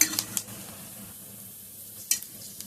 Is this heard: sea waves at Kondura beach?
no